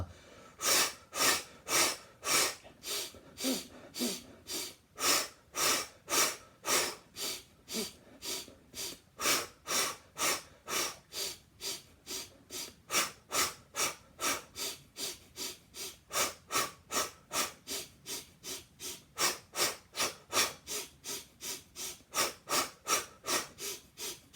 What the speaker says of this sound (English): Let's go quadruple time breath.